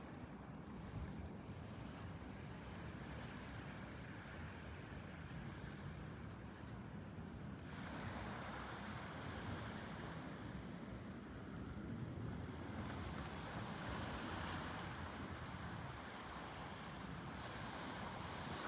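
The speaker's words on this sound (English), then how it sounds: "Waves. Love the waves." Ocean waves wash steadily onshore with wind buffeting the microphone, a continuous broad surf roar at low level with a slight swell midway and no talking.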